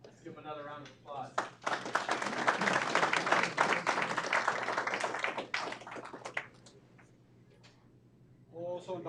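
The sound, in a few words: council meeting audience applauding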